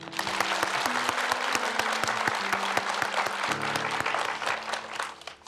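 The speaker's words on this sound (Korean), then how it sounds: "우리 저분을 위해서 박수 한번" An audience at a Buddhist monk's question-and-answer talk gives a sustained round of clapping, loud and dense with crisp individual claps over a faint steady tonal hum, easing slightly toward the end.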